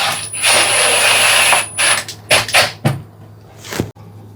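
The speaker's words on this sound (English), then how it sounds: "we're just going to put the trim screws on" Power tool driving trim screws into an RV vent fan: a loud, close high whine for about a second and a half, then several short bursts with clicks and handling knocks, no talk.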